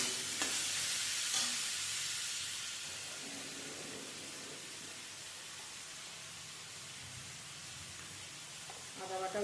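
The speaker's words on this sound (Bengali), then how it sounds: "আদা বাটা একসাথে দিয়ে ভালো করে এটাকে ভাজা ভাজা করে নেব।" Onion frying with garlic paste, chopped tomato and ginger paste gives a steady soft sizzle and hiss in a pan, louder at first then settling, with a few stirring scrapes.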